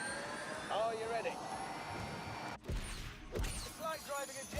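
A car engine in The Grand Tour Game roars with a steady, jet-like whine and rush, loud and continuous with a brief dip midway, while a voice talks over it.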